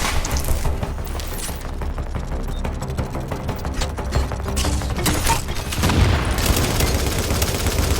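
A deployed turret in The Division opening up alongside other gunfire, dense crackling shots and bursts with booms mixed in, loud and continuous, with no speech over it.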